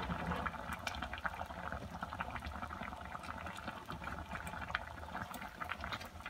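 A pot of water at a steady rolling boil while salt and seasoning go into a sardine dish, the bubbling a constant, close, even roil with no one speaking.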